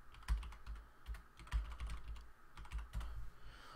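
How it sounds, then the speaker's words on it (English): Someone types on a computer keyboard, a close series of uneven clicking keystrokes in short bursts with no talking. "So I'm going to type it in."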